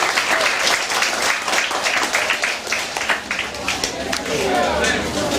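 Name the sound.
audience applause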